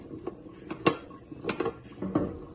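A pot of Fante Fante fish stew shaken by hand, giving several sharp metallic clanks and rattles spaced irregularly, close and moderately loud, with no talk.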